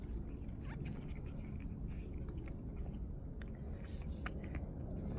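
Cats eat canned food outdoors, giving faint, continuous wet chewing and small bites close by over a low background hiss.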